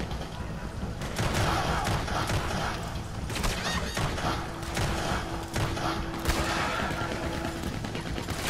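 Gunfire rattles through a Red Dead Redemption 2 match, repeated shots and bursts crackling in dense, uneven clusters with a continuous game soundscape underneath and no clear talk.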